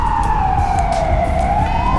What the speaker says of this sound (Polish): To nie karetka, to policja.